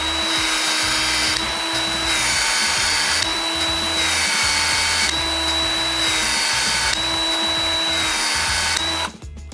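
A PEX expander tool working on pipe gives a loud, steady motor whine that pulses in about five regular cycles, close up, then stops abruptly at the end.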